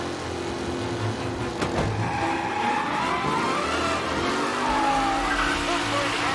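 Race cars on their final lap in Mafia Definitive Edition, engines droning and tires skidding steadily throughout, with voices running underneath.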